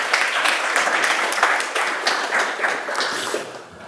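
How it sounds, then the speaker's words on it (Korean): An audience at a tech conference session applauds to welcome a presenter with a dense, even wash of clapping that carries on for several seconds and then fades toward the end. "박수로 맞이해 주십시오."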